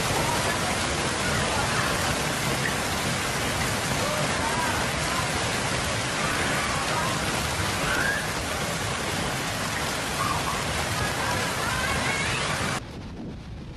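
Dense, steady roar of hail and rain pounding down during a violent storm in southern Germany, Bavaria and Baden-Württemberg, with a thunder rumble beneath; loud and continuous, dropping off abruptly near the end.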